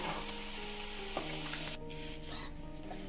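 Homemade french fries sizzle steadily in hot oil, a continuous close crackle with a faint tone underneath, the bubbling easing slightly partway through.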